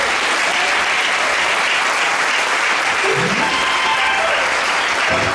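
A church congregation applauding at a Sunday service, with loud, sustained, dense clapping that fills the whole span.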